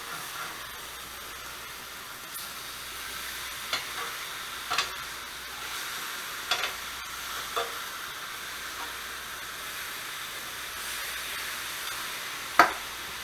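Pork ribs sizzle and hiss softly in a cast iron grill pan in a steady, faint frying bed, broken by a few sharp clinks and taps as pieces are turned, with no talk.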